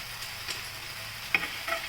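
Eggplant slices fry in a pan with salt and turmeric powder, giving a steady soft sizzle broken by a few brief scrapes or clicks from a utensil, with no talking.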